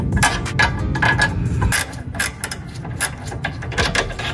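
A wrench works the lower control arm bolts on an 8th-generation 2006-2011 Honda Civic Si, giving a quick run of close metallic ratchet clicks and clinks in uneven bursts.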